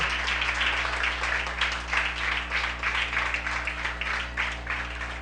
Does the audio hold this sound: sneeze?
no